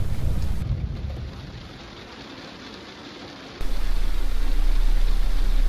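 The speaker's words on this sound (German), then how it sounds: "Ich mag dieses Geräusch von Regen" Rain patters steadily on a camper's roof and skylight in Ainsa with a broad hiss, fading slightly then swelling louder with a deeper rumble near the end.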